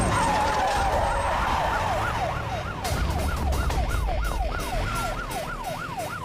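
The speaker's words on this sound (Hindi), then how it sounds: "ये तो पुलिस का सायरन है।" A wailing police siren sweeps up and down in a steady repeating rise-and-fall, loud and close, over a low rumble of traffic.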